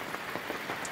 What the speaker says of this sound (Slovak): Pekne nám aj začalo pršať.